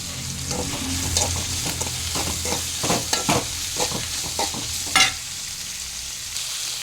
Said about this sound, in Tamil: எண்ணெயில் வேக விடுறது கொஞ்சம் பாரு இப்படி பாருங்கள்